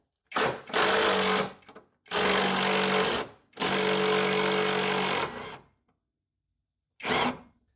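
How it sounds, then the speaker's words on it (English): A 15mm frame bolt on a Jeep is hit with an impact wrench in four loud close bursts of rattling hammering, the longer ones lasting about two seconds each, separated by short silences. "I've got myself a 15mm combination wrench along with 15mm socket on my impact"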